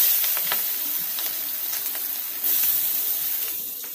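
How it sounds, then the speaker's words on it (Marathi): Onion frying in a pan with turmeric and curry leaves makes a continuous bright sizzle with faint scraping stirs. Nobody speaks. "कांदा लाल होईपर्यंत परतून घ्यायचा।"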